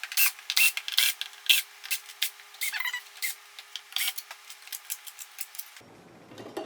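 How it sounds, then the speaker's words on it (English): A screwdriver takes screws out of a Yamaha Motif keyboard, making a run of close, short scraping and grinding strokes in an uneven rhythm with no talking. "So let's go ahead and use the screwdriver"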